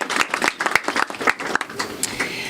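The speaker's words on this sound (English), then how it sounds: "a round of applause for all the healthcare workers and everything that you do" Audience applauding healthcare workers at a hospital gathering, a short run of distinct, fairly close claps from a modest crowd, uneven in rhythm and tapering off.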